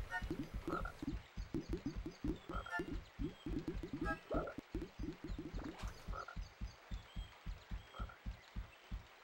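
A mother frog in Disney's Winnie the Pooh's Rumbly Tumbly Adventure croaks over and over in a steady rhythm, dozens of deep, close croaks in a row.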